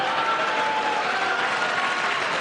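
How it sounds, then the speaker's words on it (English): Sustained applause from Republican lawmakers in the chamber during a presidential address to Congress, dense, even clapping filling the room without a break. "a lot of applause from Republicans, no reaction from Democrats"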